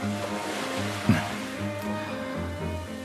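Sea waves wash in a steady low surge, moderately loud and continuous, with a brief splash-like bump partway through and faint background tones beneath.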